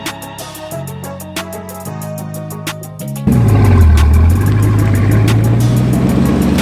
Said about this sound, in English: That thing just sounds so mean. W16 with quad turbos.